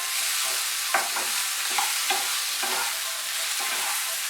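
Eggplant fries in a pan with spices, a little sugar and coriander leaves, giving a constant bright sizzle close by, with repeated scraping strokes of a spatula stirring through it.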